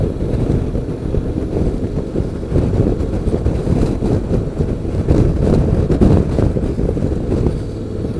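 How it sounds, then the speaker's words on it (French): A 2017 Honda X-ADV scooter cruises along the road, its engine drone blending into heavy, buffeting wind noise against the microphone, loud and continuous with no talking. "C'est vraiment sympa ça, ce petit scooter."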